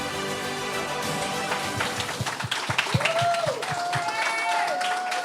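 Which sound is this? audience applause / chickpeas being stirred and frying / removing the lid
audience applause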